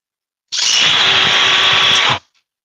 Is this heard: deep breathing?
no